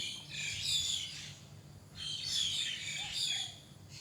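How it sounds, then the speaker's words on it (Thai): Bright chirping birdsong in two bursts outdoors, moderately close, over a faint low background hum. "อาบแดดท่ามกลางเสียงนก"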